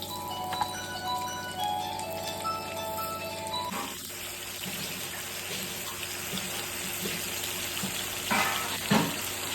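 Fish curry ingredients frying in a pan in a home kitchen, giving a steady broadband sizzle throughout, with a faint tonal hum early on and a couple of louder bursts near the end.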